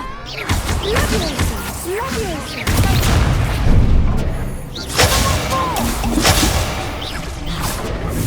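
Spell combat in Hogwarts Legacy, loud overlapping magical whooshes, crackling blasts and impacts in a continuous dense barrage, with game character voices shouting over the fight.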